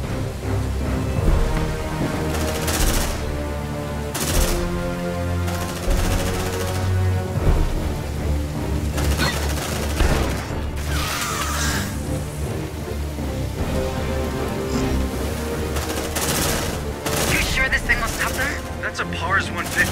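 Gunfire in the sci-fi video game Aliens: Dark Descent, with dense bursts of shots and explosions over a constant roar of battle and music, loud and continuous, with combat voices shouting in the mix.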